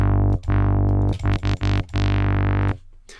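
A deep synthesizer bass plays a few sustained notes with short staccato stabs in between, loud and close, ending in quiet.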